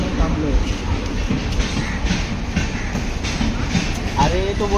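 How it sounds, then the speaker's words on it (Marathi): A train rolls past a level crossing with a steady rumble and rhythmic wheel clatter throughout, fairly loud and close, while people talk nearby over the noise. "ट्रेन आली म्हणून थांबलोय"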